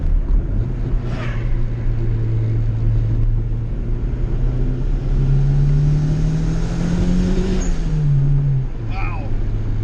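A turbocharged GSR EG hatchback engine pulls at wide-open throttle from inside the car, a loud steady drone whose pitch climbs and then drops, with someone talking over it.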